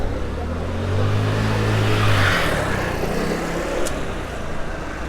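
A line of cars rolls past a cyclist on the narrow Amalfi coast road in Italy, a steady engine and tire rumble that swells and fades, close and continuous with no talking.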